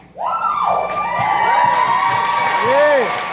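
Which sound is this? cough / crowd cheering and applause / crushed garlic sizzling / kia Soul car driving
crowd cheering and applause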